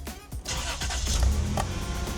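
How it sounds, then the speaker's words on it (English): A 1992 Toyota 4Runner engine cranks and catches, a short starter whir followed by the motor firing up and running steadily at close range, with no talking. "let's crank it on and see if the motor has any issues"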